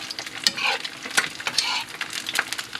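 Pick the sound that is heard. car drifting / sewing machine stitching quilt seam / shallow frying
shallow frying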